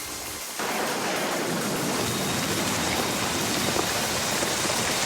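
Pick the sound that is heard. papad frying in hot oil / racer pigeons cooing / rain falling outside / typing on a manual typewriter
rain falling outside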